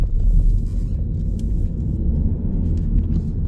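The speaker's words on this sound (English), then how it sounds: "So over the speed bump there" Cabin rumble of a 2021 Kia Ceed 1.6 CRDi MHEV Sportswagon diesel with 104k miles rolling over a speed bump, with a low thump near the start and steady road and engine noise after, with no talking.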